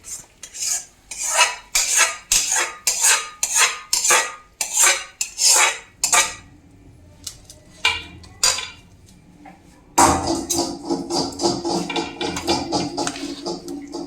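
A spoon scrapes and stirs hot jaggery into flour in a pan for adadiya, a winter sweet, making repeated rhythmic close-up scrapes that pause briefly partway through, then resume denser and busier.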